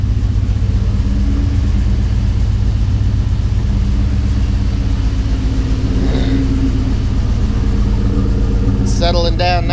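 A Ford Coyote V8 swapped into a vehicle idles just after its first start, a steady, loud low rumble with a fairly even rhythm, a voice speaking over it and a burst of clicking near the end.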